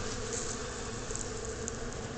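Honey bees swarming at a top bar hive make a steady, dense buzzing hum, close and continuous, with no voices.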